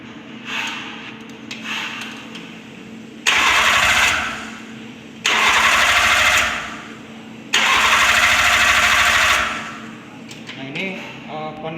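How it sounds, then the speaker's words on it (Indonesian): A Toyota Avanza engine is cranked three times by its starter, each a loud, sustained whirring burst separated by short pauses, over a steady background hum. "Kita coba cranking 3 kali,"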